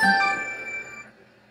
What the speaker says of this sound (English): I just want to stop that ringing.